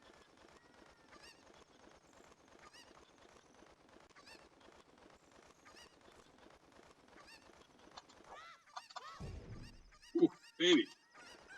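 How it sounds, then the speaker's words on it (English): A chicken in The Legend of Zelda: Ocarina of Time clucks and squawks in a few loud bursts toward the end, over faint, busy overworld game ambience. Someone speaks briefly. "Come here, chicken."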